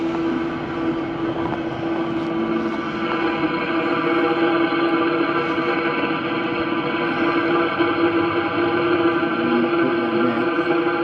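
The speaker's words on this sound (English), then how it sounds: "You can hear the exhaust outside." Exhaust from an Eberspacher Airtronic M3 D4L diesel heater installed in a Hewescraft 210 boat, a steady droning rumble with a constant tonal hum heard outside the window, continuous and fairly loud throughout.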